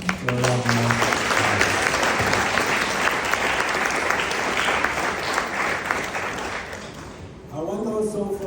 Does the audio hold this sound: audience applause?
yes